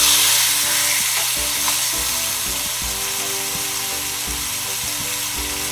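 Pork sears in a very hot cast iron skillet with a strong, continuous close sizzle and crackle, joined by a low hum and a few faint knocks in the background, with no talking.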